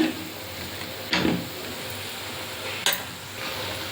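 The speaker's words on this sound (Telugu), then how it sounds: "ఇప్పుడు మనం ఈ పేస్ట్ని ఇందులో వేసేసుకుందాము." Potato paste tipped into onions frying in a pan, giving a steady sizzle with two brief scraping, stirring bursts as it goes in.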